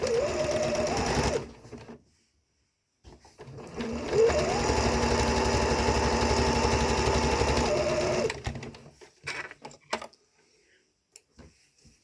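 A sewing machine stitches the side seam of underwear, sounding a short burst first, then a longer continuous loud run after a pause, followed by light handling clicks as it stops.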